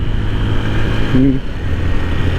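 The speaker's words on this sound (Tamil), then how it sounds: "சரி, இதுலேருந்து இப்படி ஓவர்டேக் பண்ணி போய் இந்த ரோடு இந்த விஷுவலை காட்டுறோம்" A car overtaking on a coconut-tree-lined road near Melsiripura, Sri Lanka, gives a steady, close engine rumble heard from inside, with a short tonal sound partway through.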